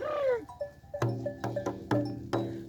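Flock of sheep bleating nearby, several distinct calls overlapping one after another with a rhythmic cluster of short bleats, heard alone without talk.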